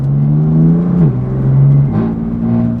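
A BMW M4 CS with a Remus exhaust and DCT gearbox, burbles set to aggressive mode, revs steadily nearby, its deep engine note rising and dipping through two swells over about three seconds, with no talking.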